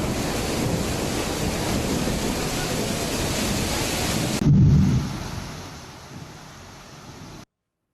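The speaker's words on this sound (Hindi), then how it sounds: "कर्नाटक के हुबली धारवाड़ में तूफान के साथ तेज बारिश" Storm with heavy rain in Hubli-Dharwad, Karnataka: a loud, steady roar of downpour and gusting wind fills the air, then a sudden cut leaves a softer, fading wash of rain.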